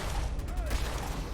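Gunfire in Fallout 4, a short, steady burst of dense shots and impacts blended with game noise, with a faint voice in the background.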